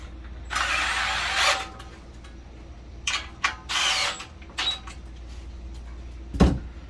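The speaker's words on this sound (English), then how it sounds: "I like using number 2 on these install drivers. It doesn't put as much torque, so it doesn't twist your wrist, and it just tightens it up." A handheld install driver runs in short bursts, whirring and clicking as it tightens screws on a Chatsworth Products fixed wall rack, with several separate close-up spurts and a sharp knock near the end.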